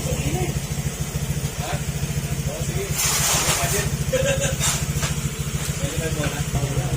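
Motorcycle engine idling steadily after a stator repair, a close, even low putter that runs throughout while people talk over it.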